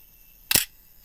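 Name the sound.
Nikon FM2 film camera self-timer running, then shutter release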